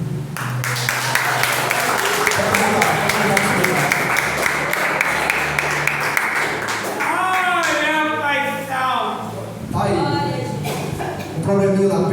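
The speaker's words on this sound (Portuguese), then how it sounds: "Você poderia aplaudir o nome do Senhor por isso?" A church congregation at a Wednesday evangelistic campaign service bursts into loud, dense applause, with the clapping fading around midway as voices and talk rise over the thinning claps.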